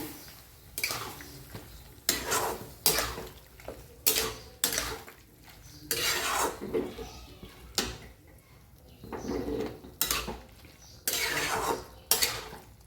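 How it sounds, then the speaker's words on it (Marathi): A spoon stirring chopped ridge gourd in a metal pan, repeated scraping and clattering strokes in an uneven rhythm, close by, with faint sizzling between strokes. "आता मिक्स करून घेऊया"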